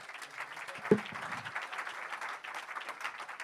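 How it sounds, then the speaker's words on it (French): A crowd applauds steadily, a dense wash of many hands clapping at moderate volume with no voices over it. "On peut les applaudir quand même"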